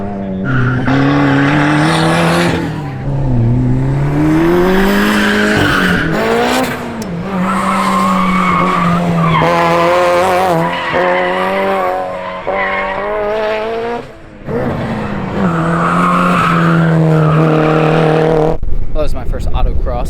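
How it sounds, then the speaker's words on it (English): Race cars at an autocross, engines droning loudly and steadily with long tire squeals as they skid through turns, the roar continuous and close for the whole stretch with a brief dip near the end. "that was my first autocross up close"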